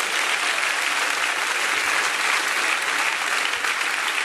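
A church congregation applauds in praise, a dense, steady roar of many hands clapping together that fills the space without pause.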